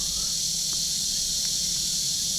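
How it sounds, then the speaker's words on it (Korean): Loud, steady insect drone of cicadas filling the air around a campsite in the morning, a continuous high buzzing that runs unbroken throughout. "매미 소리가 너무 커가지고"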